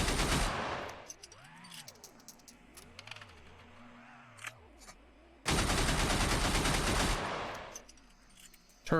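Turrets hidden inside walls in Receiver 2 fire loud, dense bursts of automatic gunfire, with a short volley at the start and a longer sustained burst later, separated by quieter mechanical tones and whines.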